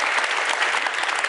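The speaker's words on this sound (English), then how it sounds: "Give yourselves a round of applause." A seated audience at a talk claps in dense, steady applause, loud and close, filling the whole moment without any voices over it.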